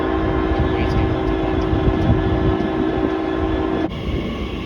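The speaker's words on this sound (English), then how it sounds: "now departing is a 345 en route to Heathrow Terminal 4" A Class 345 electric train pulls out of Acton Main Line station on the Great Western Main Line, heading for Heathrow Terminal 4. It gives a loud, steady close-up rumble with a sustained motor whine that shifts near the end.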